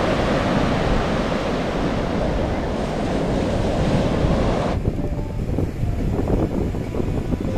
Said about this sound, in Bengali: সে এক নির্জন সমুদ্র সৈকত।